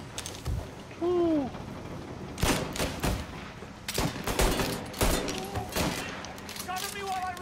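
Bursts of gunfire in the video game Mafia, several sharp volleys and rapid shots spread across the stretch, loud against quieter gaps, with a player talking between them.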